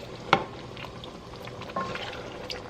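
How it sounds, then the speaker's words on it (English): Beef stew gravy simmers in a pot on the stove, cooking down to a semi-thick consistency. Quiet bubbling and sizzling continue throughout, broken by a sharp utensil clink near the start and a soft knock later. "we're going to allow that to cook down to a nice semi-thick gravy"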